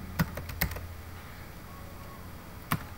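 Keystrokes on a computer keyboard while entering a spreadsheet range, a short burst of several clicks near the start, then a pause and one more tap, close and fairly quiet over faint room hiss.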